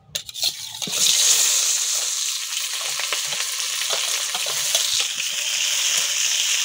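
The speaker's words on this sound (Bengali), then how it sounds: "গরম হয়ে গেছে, দিয়ে দিচ্ছি তেল, পেঁয়াজ, লঙ্কা" Onion and green chili sizzling as they hit hot oil in a home kitchen pan, a sharp burst at the start settling into a steady, close, continuous fry with occasional stirring clicks and no talk.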